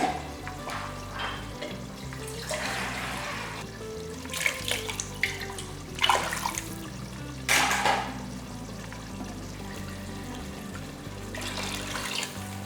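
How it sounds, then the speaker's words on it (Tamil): Water pours steadily into a pan of rasam on the stove, a continuous rushing splash mixed with sizzling and clattering in a home kitchen. "இப்போ இதுலேயே நமக்கு தேவையான அளவுக்கு தண்ணியை ஊற்றிடலாம்"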